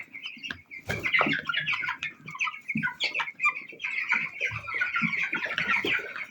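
A flock of young broiler chickens pecks at a mixed, unpelleted ground-grain feed, giving close busy clucking, chirping and scratching over a dense, restless chatter throughout.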